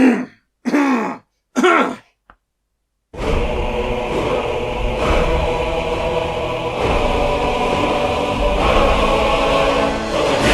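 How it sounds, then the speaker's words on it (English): Three short, gravelly throat clears come close together near the start, then a brief pause before continuous ambient music fills the rest. "I need to clear my throat"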